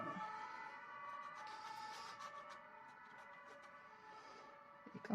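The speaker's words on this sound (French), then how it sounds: "c'est la police ou les ambulances" A police or ambulance siren wails outside, faint and distant, a sustained rising and falling tone heard alone across the whole stretch.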